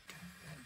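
A 3D printer printing a small part gives a steady mechanical hum with low tonal whine, running continuously at close range, with no talking.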